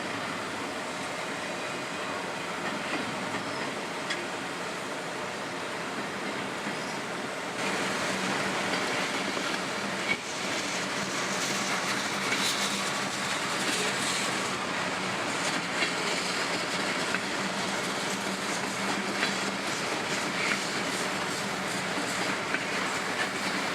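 A CSX freight train with Tropicana juice cars and stack cars rolls along a single-track mainline on a grade, giving a steady, loud rumble with clickety-clack wheel beats throughout and no voices.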